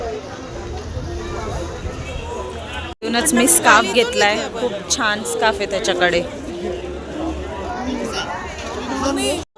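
Saturday crowd bustling through a market on a Mahabaleshwar outing, a steady murmur of many voices and chatter filling the background, with someone talking close by over the hubbub.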